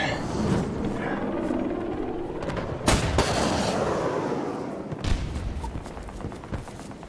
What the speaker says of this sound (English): Oh, there's two shooting at me.